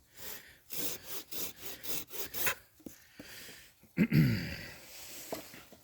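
A Tenju 240 hand pruning saw cuts a branch with a quick series of about eight rhythmic rasping strokes, close up. A louder crack follows near the end as the cut finishes.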